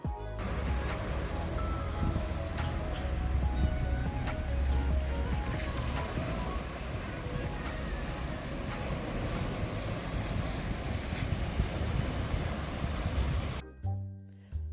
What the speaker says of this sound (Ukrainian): А це один із е, кам'яних пляжів біля містечка Сліма.